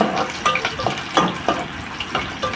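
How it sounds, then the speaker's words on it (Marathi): Onion frying in oil in a pot for a crab curry, a steady close crackling sizzle broken by repeated scraping stirs of a spoon at a quick, uneven rhythm. "कांदा आपल्याला तेलामध्ये नीट असा फ्राय करून घ्यायचा आहे."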